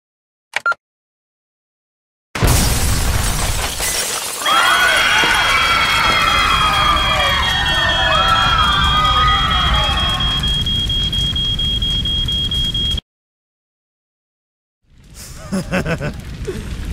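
An explosion in the video game VS Tabi sounds as a loud, sustained crashing and splintering roar with a high steady whine over it. It lasts about ten seconds, stops abruptly, and other game sound follows after a short silence.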